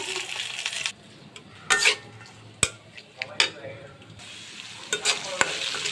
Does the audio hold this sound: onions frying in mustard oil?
yes